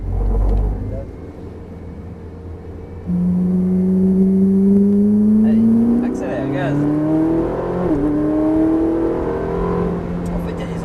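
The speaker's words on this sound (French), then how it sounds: "Allez, débraque et accélère, gaz." Ferrari race car accelerating on a track, its engine note rising steadily in pitch through the gears and sustained loud and close, heard from onboard with talk over it.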